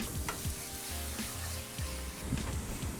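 Mango slices sizzling steadily in dry caramel scented with star anise, a dense continuous frying hiss close up with occasional soft stirring scrapes.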